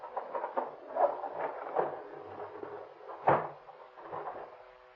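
A door is forced open in an old radio crime drama: muffled creaks, knocks and shoving thumps, with one heavier bang partway through, close and fairly soft.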